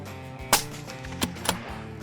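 Three sharp rifle shots, fired at long range, crack in quick succession: one loud, then two slightly softer reports less than a second apart, with faint ambient noise between them.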